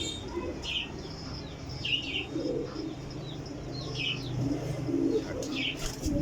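Desi flying pigeons coo softly and repeatedly close by, with low murmuring calls, occasional faint chirps and a light rustle of wings over steady background noise.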